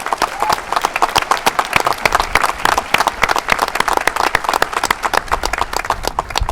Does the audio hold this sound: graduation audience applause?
yes